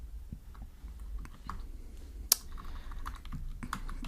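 Code is typed on a computer keyboard in quick, irregular bursts of close key clicks, with one sharper tap standing out partway through.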